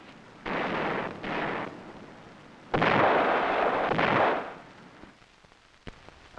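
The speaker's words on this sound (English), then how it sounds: "In return, they opened up with their 20-millimeter cannon." Bursts of 20-millimeter cannon fire from a Navy boat into thick jungle, heard as two loud, rumbling volleys, the second longer and heavier, then a sharp faint crack near the end.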